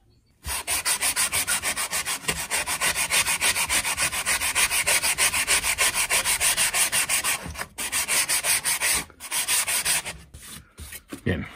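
Cleaning cloth rubbed briskly over the cover of an AKAI AA 1175 amplifier, fast rhythmic back-and-forth scrubbing strokes, close and loud, with a few short pauses and no talking.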